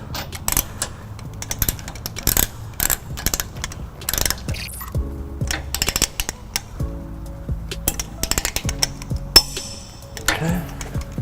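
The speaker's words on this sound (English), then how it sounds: "you should hear your torque wrench give you a click" Torque wrench tightening trailer hitch bolts on a 2015 Lexus GX 460, giving sharp ratcheting clicks and mechanical ticks in repeated bursts, close and fairly loud, with some background speech.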